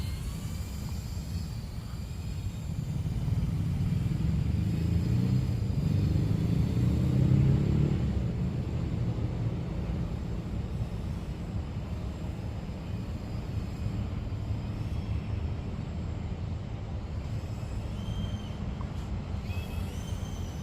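Junior Racer 75 FPV drone with higher KV motors flying, a steady airy whine and rumble that swells louder in the middle and then holds at a moderate, fairly close level throughout.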